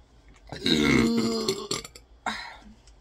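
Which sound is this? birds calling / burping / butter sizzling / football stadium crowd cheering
burping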